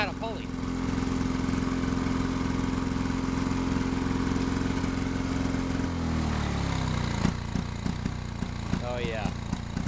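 A Lawn-Boy 8229A lawn mower engine runs with a steady buzzing drone, then its pitch drops and it sputters down into uneven popping bursts, with voices talking over it.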